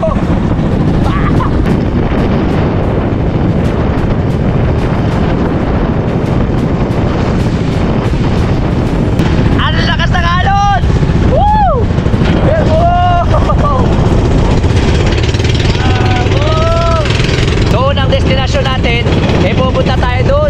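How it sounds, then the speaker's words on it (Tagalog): A small outrigger boat pushes through rough water off Caramoan, Camarines Sur, with loud, constant wind and engine rumble and heavy wave noise; voices call out intermittently over the din. "sasalubungin natin yung malalakas na hampas ng alon"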